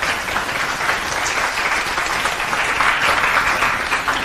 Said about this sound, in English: So can we have a huge round of applause for our panelists?